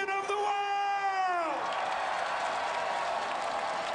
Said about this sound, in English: The crowd loving every minute of it.